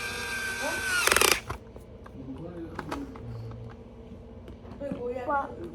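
A small power drill runs briefly into a toy car part, a short loud whine lasting a fraction of a second, followed by quieter handling sounds and talking.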